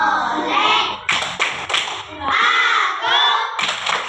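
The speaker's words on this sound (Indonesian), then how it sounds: "Ayo belajar 1, 2, 3. Tepuk anak soleh." Children clap along to the Tepuk anak soleh chant, sharp hand claps in an uneven rhythm mixed with young voices chanting and talking close by.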